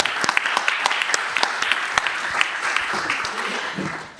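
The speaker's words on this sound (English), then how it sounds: "A round of applause," Audience at a conference on smoke-free policy applauds, a dense, steady round of clapping from many hands that lasts about four seconds and then tapers off, heard alone without speech.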